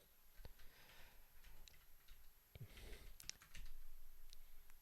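Quiet, irregular clicking of a computer keyboard being typed on during a programming session, with soft scattered keystrokes and no talking.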